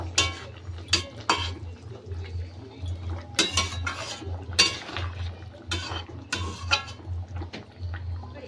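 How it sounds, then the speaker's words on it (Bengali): Eggplant pieces being stirred into softened boiled potatoes in a cooking pan, with intermittent utensil scrapes and clinks against the pan over a low steady hum, close by. "এবার আমি দিয়ে দেব বেগুনগুলো বেগুনগুলোকে ঢেলে দেব ভালো করে মিশিয়ে নেব"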